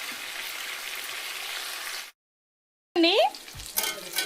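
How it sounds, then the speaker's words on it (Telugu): Chicken pieces fry in hot oil in a pan for restaurant-style fried leg pieces, a steady sizzle that cuts out briefly, then returns with a sharp bubbling crackle and stirring clatter. "ఇంక ఇటు వచ్చేసి చికెన్ ఫ్రై అన్నమాట"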